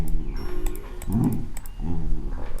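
A wolf in a video game growls and whimpers, low rumbling snarls rising and falling in two bursts with high whining tones, close and fairly loud.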